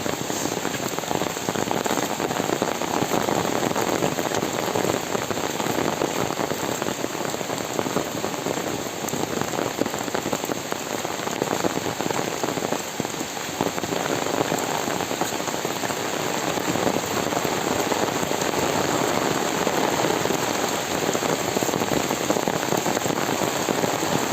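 Heavy rain pours steadily over a village dirt road, an unbroken, uniform hiss of drops that stays level for the whole stretch, with no talking.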